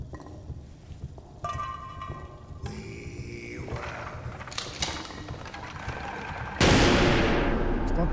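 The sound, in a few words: gunshots in video game Amnesia: The Bunker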